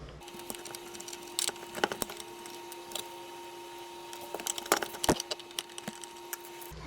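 Screws being taken out of a dash panel from a 2003-2007 vehicle on a bench, heard as scattered small clicks, ticks and light metallic taps over a faint steady hum, close up and quiet.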